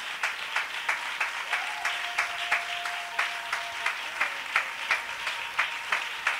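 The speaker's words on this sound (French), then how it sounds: "Give a clap to God." A church congregation claps together in a steady, even rhythm, loud sharp beats repeating about twice a second while a faint sung or sustained tone drifts underneath.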